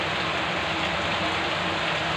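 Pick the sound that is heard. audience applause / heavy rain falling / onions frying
heavy rain falling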